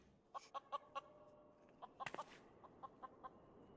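Green chicken in Final Fantasy XIV clucking in a quick run of four bright clucks, then a louder squawking burst and several softer clucks, moderately quiet over a faint game background.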